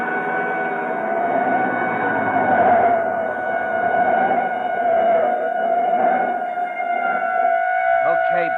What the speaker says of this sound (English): Hey, a police siren a block behind.